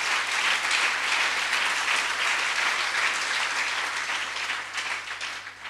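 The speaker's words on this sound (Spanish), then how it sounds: "Dele un fuerte aplauso al Señor." A church congregation gives the Lord a loud round of applause during a sermon, dense sustained clapping that fills the whole stretch at steady strength before easing slightly toward the end.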